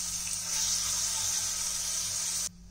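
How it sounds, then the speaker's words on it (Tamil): Rinse water from a mixer grinder jar is poured into a cooking pan of Rajasthani masala and curry leaves, giving a steady close splashing stream for about two and a half seconds before it cuts off. "இந்த ஜார் வந்து வாஷ் பண்ணி அதில் கொஞ்சம் தண்ணி இருக்குன்னா அதையும் அப்படி சேர்த்துக்கோங்க"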